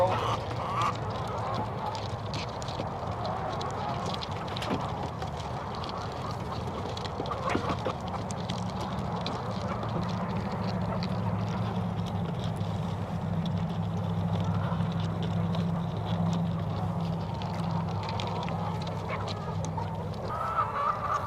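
Chickens of several breeds, including Isa Browns, leave a chicken tractor onto grass pasture, with a continuous busy clucking and squawking at moderate distance over a low steady hum.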